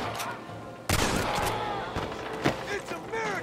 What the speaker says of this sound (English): Why are you shooting at us?